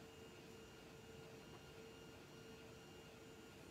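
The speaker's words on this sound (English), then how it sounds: "Can you guys hear the 3D printer tonight? It is running." A 3D printer runs indoors at night, giving a faint, steady whirring hum with a constant tonal whine that holds evenly throughout, with no talking.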